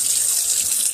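Running water from a tap rinses dyed wool roving, a brief steady hiss of flowing water close by with no voices.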